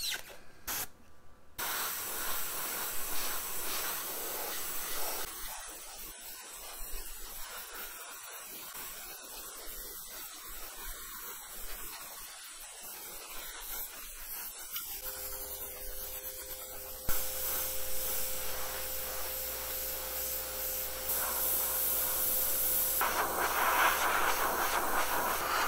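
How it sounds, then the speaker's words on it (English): An airbrush sprays red paint onto a ball helmet in light coats, a faint steady hiss that comes and goes, with a louder continuous hiss toward the end and no talk. "And now we're just going to spray in some red."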